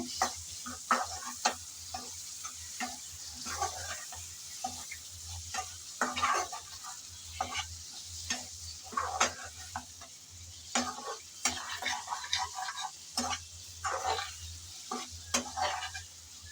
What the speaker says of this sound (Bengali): সেগুলো সব এখন ভালোভাবে নেড়ে চেড়ে কষিয়ে নিতে হবে